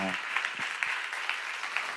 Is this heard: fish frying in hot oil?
no